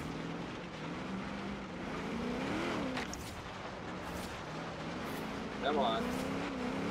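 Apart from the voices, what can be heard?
Holden FX car engine driving uphill in video game Forza Horizon 3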